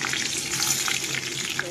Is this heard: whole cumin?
yes